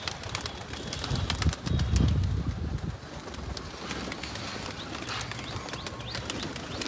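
Pigeons cooing in low, rumbling bursts, strongest early on, over steady outdoor noise with some wind.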